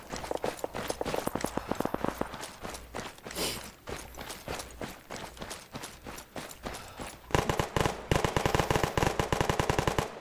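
Rapid automatic gunfire from the Arma 3 combat game, dense bursts of shots rattling nonstop for the whole stretch, growing louder and sharper near the end.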